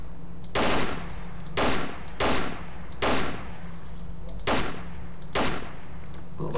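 Gunfire in the game Stalker with the SGM mod, six evenly spaced sharp, loud bursts of automatic fire, each a short rattling volley over a low steady background hum.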